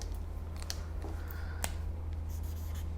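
A pen writes on paper up close, with quiet scratchy strokes and a few light ticks over a low steady hum, with no one talking.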